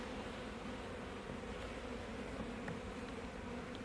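Honey bees drone steadily at an opened hive during an inspection after a package of bees was installed, a dense, even, close buzzing that holds without a break.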